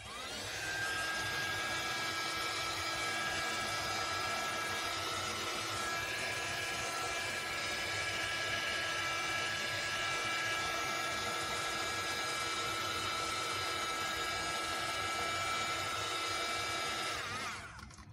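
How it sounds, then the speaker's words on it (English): Heat tool blowing steadily for heat-setting a decoupage coloring, a continuous whirring fan drone with a faint high whine, running unbroken for about seventeen seconds before cutting off. "I'll just heat set it now so that we can finish this whole thing up"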